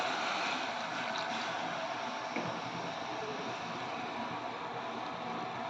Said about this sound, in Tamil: வேக வைக்கிறதுக்கு தேவையான அளவு தண்ணி ஊற்றிக்கலாம்